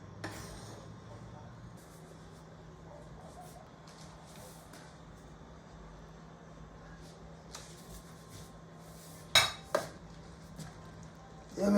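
A pot of Ital stew with thyme, onion and garlic is stirred quietly over a low background hum, ending in a few sharp clinks and scrapes of a spoon against the pot.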